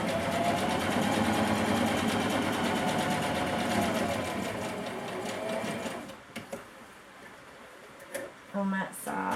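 A sewing machine runs steadily as lining is sewn to a bodice front, its fast mechanical hum continuing for several seconds before stopping, followed by a few faint clicks and handling sounds.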